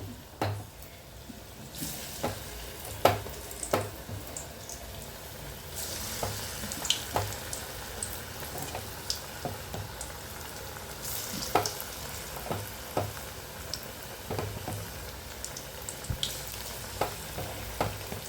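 Onion bonda batter, dropped loosely into hot oil, fries with a dense, steady sizzle close by, punctuated by sharper pops and splashes as more blobs of batter hit the oil.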